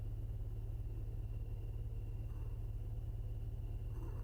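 Stopped car's engine idling in the horror game Fears to Fathom: Norwood Hitchhike, a steady low rumbling drone that holds evenly throughout, quiet and unchanging.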